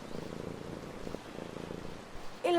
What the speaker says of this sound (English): This is a little kid with a cat.